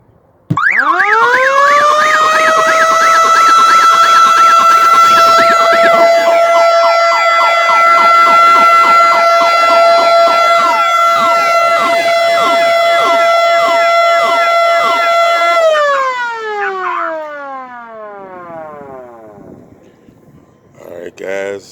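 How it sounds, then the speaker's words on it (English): A very loud siren mounted on a pickup truck wails steadily at close range for about fifteen seconds, then winds down and fades out. "That's how you install a loud siren on your vehicle."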